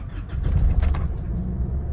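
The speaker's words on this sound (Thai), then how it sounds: "ผมจะทำการสตาร์ทเครื่องยนต์ดูนะครับ" A car engine, just cleared of a fault code after diagnostics, cranks and catches nearby, settling into a loud, close running rumble.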